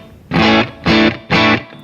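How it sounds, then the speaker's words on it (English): A 1995 Fender Strat Special electric guitar through a Bogner Burnley distortion pedal, three loud crunchy distorted chords struck in quick succession, each ringing briefly before cutting off. "I'm playing a 95 Fender Strat."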